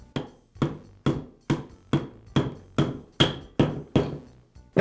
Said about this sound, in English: use my rubber mallet to tap the armature shaft into the bearing